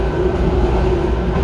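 A Miami Metrorail electric train runs along the track with a loud, continuous rumble and a steady tonal motor hum, close and constant.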